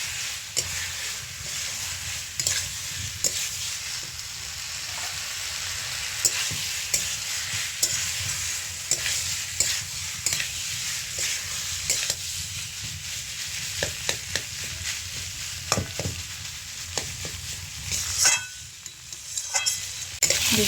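Fried potatoes are stir-fried in a spice mixture for a potol and prawn dish, giving a low steady sizzle with repeated scraping and knocking strokes from stirring.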